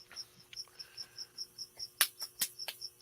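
Steady, rhythmic cricket chirps repeat at a regular pace, fairly close and clear, with no talking.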